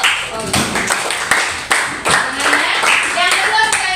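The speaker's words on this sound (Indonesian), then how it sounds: "Oke, terima kasih, tepuk tangan untuk" Students in a classroom give a round of hand clapping, close and fairly loud, with a voice talking over the applause.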